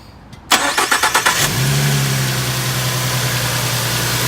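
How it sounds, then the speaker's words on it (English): A car engine cranks with a rapid series of starter chugs for about a second, catches with a roar, then settles into a steady, close idle hum. "Let's turn on the ignition now."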